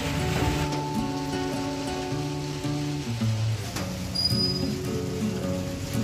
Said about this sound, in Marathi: जोरदारच्या पावसाला सुरुवात झालेली आहे. हा बघा पाऊस